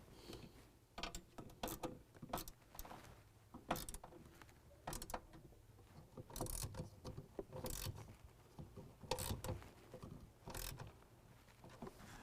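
Bolts for an Edge Pulsar programmer are being tightened with a hand tool, making irregular bursts of close metallic ratcheting and clicking separated by short quiet gaps, with no speech.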